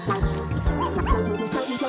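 A small dog gives a few short yips and whimpering barks, fairly close and moderate in level, with a voice murmuring over part of it.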